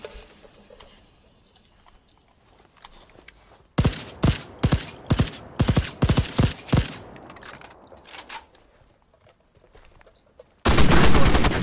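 Sharp, loud gunshots from a weapon in a battle royale shooter crack in an irregular rapid burst after several quiet seconds, followed by a dense sustained blast of fire at the end.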